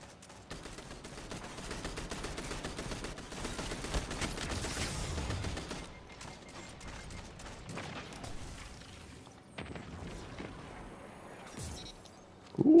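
Breakneck auto rifle fire in the Destiny 2 video game: sustained bursts of rapid automatic shots with brief pauses between them, plus mechanical clicks and a loud impact at the very end.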